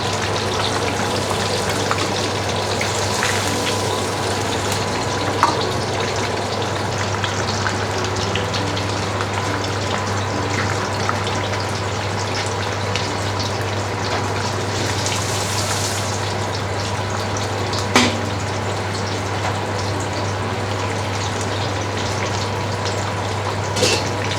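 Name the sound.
fish frying in oil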